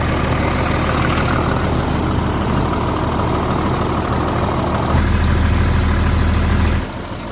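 A heavy vehicle engine that has not been started in a while idles loudly and steadily right after starting, a constant deep rumble close by with a shift in tone near the end.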